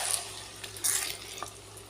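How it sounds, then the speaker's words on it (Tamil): Half a tumbler of hot water pours into pepper chicken cooking in a pan, a soft splashing sizzle with a brief watery gush, close and fairly quiet. "ஒரு அரை டம்ளர் வெந்நீர் ஊற்றுறேன்."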